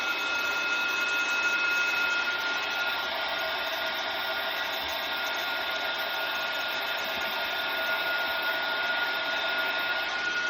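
A heat embossing tool set to level 2 blows hot air steadily over embossing powder on the back of cardstock, producing a continuous airy whir with a faint high whine, close and alone.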